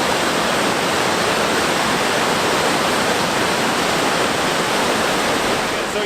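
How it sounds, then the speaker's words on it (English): A small waterfall beside a house in Bosnia and Herzegovina roars as a loud, steady, broadband rush of falling water, constant and close with no pauses or talk. "We have somewhat of a little waterfall with the house."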